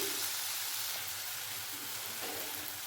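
Spice paste for a Bengali bottle gourd dalna fries in a pan after water is added, giving a steady, close sizzling hiss that stays even throughout without any talking.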